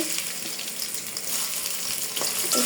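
Chopped onion hits hot oil in a heated kadai, giving a loud, steady sizzle and crackle that fills the whole stretch without pause.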